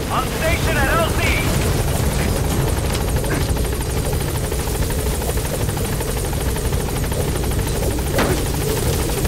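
Helicopter arriving in Metal Gear Solid V, a loud steady rotor thrum and engine drone filling the scene, with brief radio-style voices over it.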